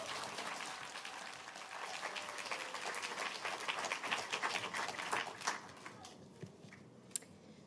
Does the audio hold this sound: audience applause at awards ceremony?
yes